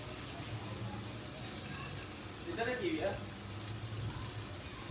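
Minced meat and green beans fry in a pan with a steady, fairly faint sizzle, briefly stirred midway, as a person talks over it.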